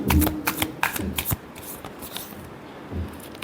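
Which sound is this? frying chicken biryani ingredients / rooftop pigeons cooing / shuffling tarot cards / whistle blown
shuffling tarot cards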